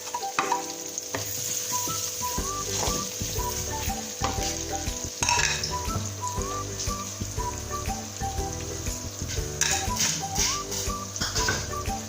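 Sliced onions frying in oil for dhaba-style achari chana daal, a steady crackling sizzle with stirring and background music running throughout.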